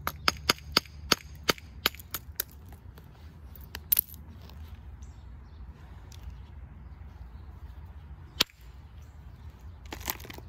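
Stone strikes as a large river boulder is knapped to shape its edges: a fast run of sharp, close cracks, then a quieter stretch with a few isolated hits.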